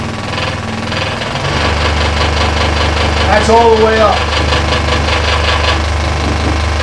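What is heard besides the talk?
WEN 3922 scroll saw running at full speed, plastic piece vibrating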